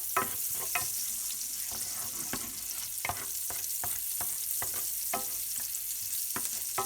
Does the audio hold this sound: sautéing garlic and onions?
yes